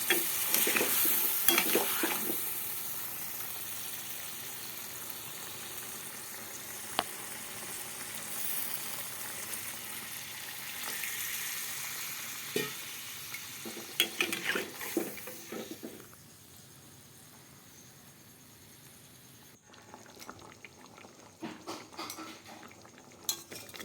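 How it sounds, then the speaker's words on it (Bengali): Curry cooking in a pan after a little water is added: soft sizzling and bubbling with repeated scraping and clinking of a spoon against the metal pan, close and fairly quiet, easing off toward the end. "এবার আমি অল্প করে জল দিয়ে দিলাম"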